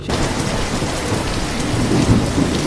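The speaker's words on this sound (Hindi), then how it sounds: "बारिश तेज हो गई" Heavy rain pours down in a dense, constant roar, with low thunder rumbling underneath throughout.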